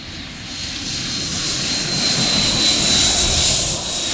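HSD Jets T-33 model jet with a 120mm electric ducted fan at full throttle, a loud, steady high-pitched whine and rushing roar sustained throughout, with no talking.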